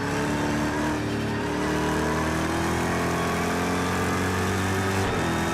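A Ferrari car engine revving in a video game, loud and close, a steady droning roar with rising and falling harmonic pitch, no talk.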